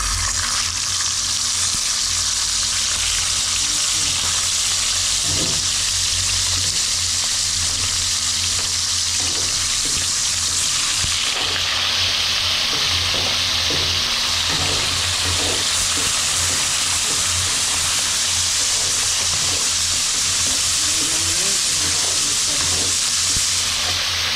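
Bangus fish fries in hot oil with a loud, steady sizzle and crackle that runs without pause, heard close, with faint clatters from stirring underneath.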